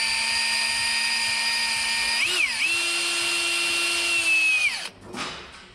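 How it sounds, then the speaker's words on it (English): A power drill with a 5 mm bit whines steadily at high speed, pitch dipping as it bites into material, then spins down and stops. "Drill the hole."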